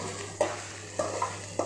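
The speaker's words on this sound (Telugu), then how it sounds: "మధ్య మధ్యలో కలుపుతూనే ఉండాలి" A spoon stirring dhondakaya (ivy gourd) roti pachadi as it fries in a pan, with a steady sizzle underneath and three distinct scraping strokes spaced about half a second apart, close and clear.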